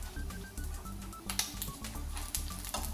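Pork rinds crackling and popping in rendered fat as they sauté in a pan for chicharrón con chile, a quiet steady sizzle with irregular small pops, heard close up.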